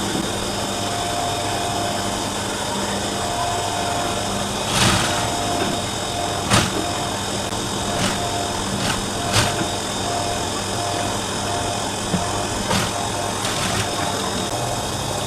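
Sewing machine running steadily while stitching a kurti seam, starting with a back tack. A continuous motor hum runs throughout, broken by a few short knocks and clicks.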